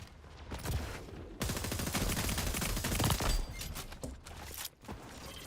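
Rapid video game gunfire rattles in dense, sustained bursts, loud and continuous with short breaks between volleys.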